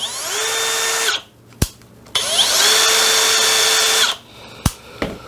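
A Bosch GSB 185 Li cordless brushless impact drill runs up in two long, steady whirring bursts, each with a clear rise and a fall as it winds down, with short clicks between them, loud and close.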